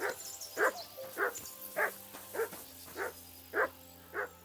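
A dog in the video game Kingdom Come Deliverance 2 barks steadily, about eight evenly spaced barks at a moderate distance, with no talking over them.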